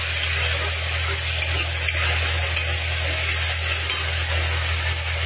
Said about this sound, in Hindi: अभी तब तक फ्राई कीजिए जब तक इसमें से ऑयल ना छोड़ जाए